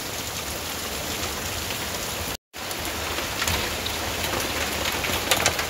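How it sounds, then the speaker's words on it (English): Heavy rain pours steadily on a flooded house in Oregon, a dense, continuous hiss of drops striking surfaces, loud and close, with one brief dropout partway through and no talking. "that's a lot of rain"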